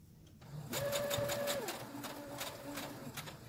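Sewing machine stitching a cotton mask in a rapid, steady run of needle strokes, close and clear, with a short whirring tone at the start and faint background noise.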